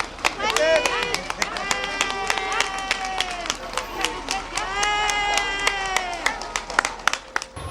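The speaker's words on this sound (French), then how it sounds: "et toujours la foule, et toujours l'enthousiasme, à croire que toutes les Ardennes se sont donné rendez-vous ici" Enthusiastic crowd at an outdoor rally stage in the Ardennes, clapping in quick, sharp bursts alongside loud, sustained cheering and shouted voices. A voice rings out over the noise, and the clapping grows more scattered toward the end.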